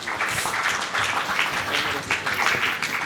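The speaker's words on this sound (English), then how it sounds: "Claps." Audience applauding a team's third-place result at a heritage quiz finals in Goa, a steady roar of many hands clapping at close range, fairly loud and continuous with slight swells.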